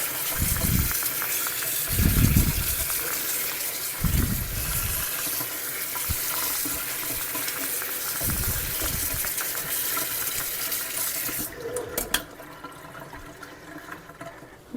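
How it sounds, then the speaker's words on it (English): Cold tap water gushes steadily over strawberries being rinsed in a kitchen sink. The pour is loud and continuous, with low thumps as the fruit is handled. "We're just rinsing to make sure there's no dirt or, pesticides, that kind of stuff."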